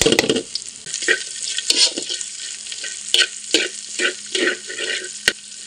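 Anchovies, chili, dried chili and garlic fry in oil in a wok, giving a steady close sizzle broken by repeated scraping stirs of a spatula.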